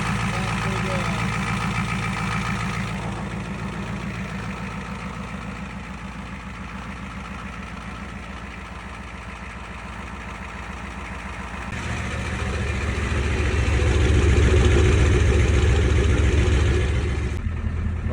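The IDI diesel engine of a 1987 Ford F250 idles steadily and close by with a rough, clattering, knocking rumble, then grows louder and deeper for several seconds as it revs, before settling again near the end.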